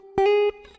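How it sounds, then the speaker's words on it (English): A single clean electric guitar note rings out steadily for a moment, then cuts off, leaving a faint fading tail. "And for the effects on the guitar, without the effects, it sounds like this."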